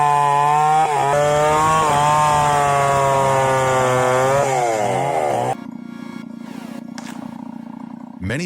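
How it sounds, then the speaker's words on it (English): A large chainsaw, similar to a Stihl 070, rips through Wadung wood planks with a loud, wavering engine whine that shifts pitch under load, then drops to a rougher lower idle with rattling, close by. "Many people may think that cutting timber with a chainsaw is impossible, but for this man, it's an art."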